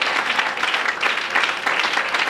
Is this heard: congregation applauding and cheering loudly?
yes